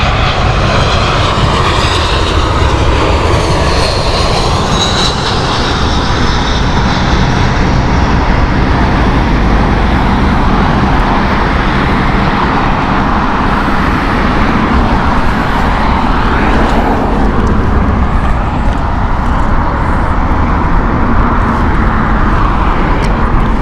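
A Boeing airliner on runway 27 left at Heathrow gives a loud, continuous jet engine roar up close, a broad rumbling wash with a hissing top that holds steady throughout, with no speech.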